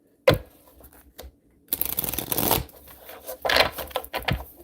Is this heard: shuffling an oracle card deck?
yes